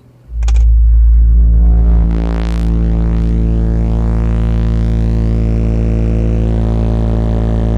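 A car engine starts and revs up hard, then holds a steady loud drone with strong low rumble, in a car audio loudness test setup with a sealed trunk enclosure holding a single 12-inch subwoofer.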